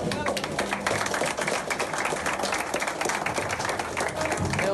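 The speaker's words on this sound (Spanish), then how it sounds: "un fuerte aplauso para nuestro Dios" A congregation standing and applauding at a church service, a loud, dense and continuous roar of many hands clapping with crowd noise blended in, sustained throughout.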